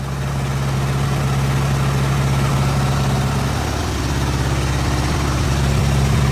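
An Isuzu 6UZ1 diesel engine in an SH450 or CX450B excavator idles steadily, a loud, close, even low rumble that holds without change throughout.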